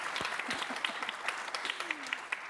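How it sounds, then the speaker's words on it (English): An audience at an Edinburgh TV Festival session breaks into steady, dense applause, with many hands clapping evenly throughout at moderate volume. "we must applaud you"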